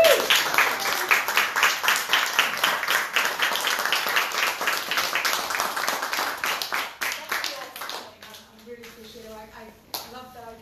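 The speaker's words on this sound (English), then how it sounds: "let's have a round of applause" Audience at a book launch for a translated short-story collection bursts into loud, sustained clapping and cheering that fades after about eight seconds, followed by a person speaking.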